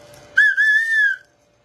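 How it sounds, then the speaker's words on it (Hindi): A toy whistle bundled with a children's football gives one steady, shrill blast of just under a second, close and loud, then stops into silence. "साथ में सीटी"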